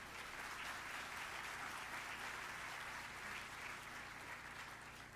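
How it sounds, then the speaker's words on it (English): A crowd applauds at a college celebration of excellence, a continuous, even wash of clapping heard faint and distant throughout. "It's a round of applause."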